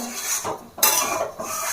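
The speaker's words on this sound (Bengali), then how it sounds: "আর অনবরত নাড়তে হবে পায়েসটা" A metal spatula stirs and scrapes Gobindobhog rice payesh, a thick milk pudding, in a wok, giving close, loud scraping clatters in uneven bursts with no talking.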